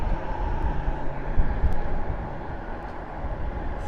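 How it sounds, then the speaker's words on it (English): A Southwest Boeing 737 takes off at Reagan National Airport, a steady, loud, broad jet roar that holds throughout with little change, heard from the ground at some distance. "So now we're going to see a 737 Southwest take off"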